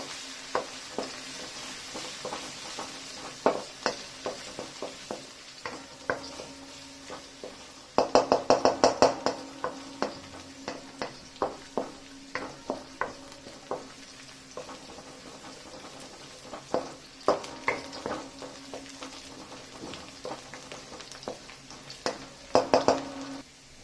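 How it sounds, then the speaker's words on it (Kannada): Finely chopped garlic fries until brown in a pan for a soup noodle dish. A constant sizzle runs beneath frequent spatula clacks and scrapes, with a dense burst of stirring partway through, close up and without speech. "ಮೊದಲು ಅದು ಬ್ರೌನ್ ಆಗೋ ತನಕ ಚೆನ್ನಾಗಿ ಫ್ರೈ ಮಾಡ್ಕೊಂಡಿದ್ದೀನಿ"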